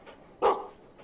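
A single short dog bark from the video game Maid of Sker, sharp and fairly close, standing alone against quiet background.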